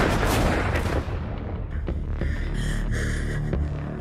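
Gunfire in a film trailer about unrest near a motel: dense, loud booming shots and rumbling blasts in quick succession over a throbbing low hum, with no speech.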